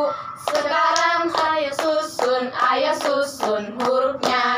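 Children's clapping chant, with hands clapping in a steady rhythm under voices singing the chant, a close, regular beat of claps mixed with sung words throughout.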